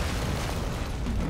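A gunship blows up in Call of Duty MW3 Zombies, a dense, sustained roaring blast that fills the whole moment with low rumbling debris and no voices.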